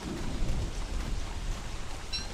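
Steady rain with low rumbling thunder in the survival video game Don't Starve, with the rain setting turned up, a dense continuous wash that swells slightly early on and holds at an even level throughout.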